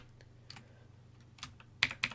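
Keys tapped on a computer keyboard while entering harmonic analysis in music notation software, a handful of quiet clicks at first, then a louder cluster of sharp keystrokes near the end over a faint low hum.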